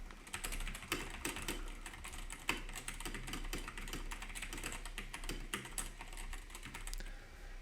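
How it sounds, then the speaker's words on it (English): Computer keyboard typing picked up by a Fifine AM6 USB microphone, a steady stream of quiet, rapid clicky keystrokes with a few sharper taps, recorded close with no talking. "let's do a typing test now."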